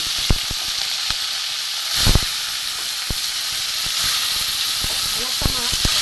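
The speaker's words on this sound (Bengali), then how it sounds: "ওই তেলে আমি এই চুনো মাছটা ভেজে নেব।" Small mourola fish hiss and sizzle in mustard oil left from frying onions, a close, even frying noise broken by scattered pops and spatula clicks.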